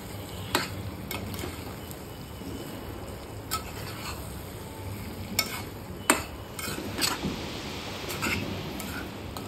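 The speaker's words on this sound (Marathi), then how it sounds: "सर्व भाज्या मी टाकून दिल्या, हलवलं चांगलं" Mixed vegetables for a dhaba-style veg handi are stirred in a sizzling pan, the spoon clinking and scraping against the metal in irregular strokes over a constant frying hiss.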